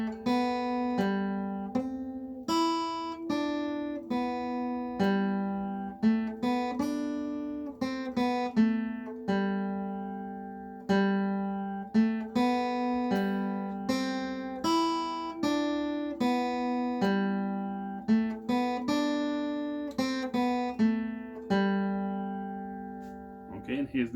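Acoustic guitar plays the intro to a song, clear plucked single notes and bass runs in a steady melodic line, close and alone with no talking.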